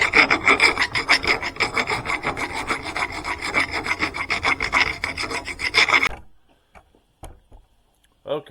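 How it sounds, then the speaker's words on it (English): Metal file scraping inside the edge of a steel tube, a fast run of loud, close rasping strokes for about six seconds, then silence broken by a few light clicks. "Now I'm taking a file, and I'm going to run a file up inside here, clean that edge off."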